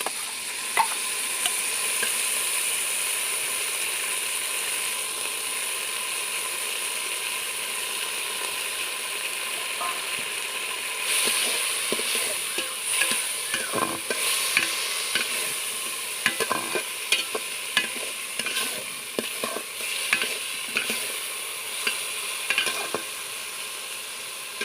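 Masoor dal being fried and stirred in a pan with bitter gourd that has been fried red, a steady close sizzle with scraping stirring strokes that grow busier and clattery in the second half, no talking.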